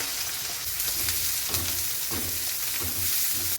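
Garlic, green chilies and onion frying in hot oil with cumin and asafoetida for Gujarati-style batata vada filling, a dense close sizzle with a few stirring scrapes, steady and uninterrupted.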